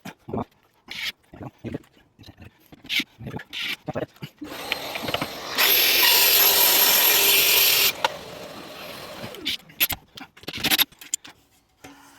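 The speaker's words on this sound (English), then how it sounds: "tidy that up again with the multi-tool" An oscillating multi-tool trims a piece of a media wall in one steady, loud buzzing burst of a few seconds, set between bits of quieter workshop handling noise and brief talk.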